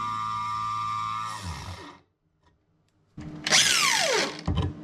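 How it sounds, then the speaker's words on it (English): Power drill with a bit boring through porcelain tile whines loudly, falls silent for about a second, then starts again with a rising, strained high-pitched grind that tails off sharply. "putting pressure on the drill bit until it goes through the tile"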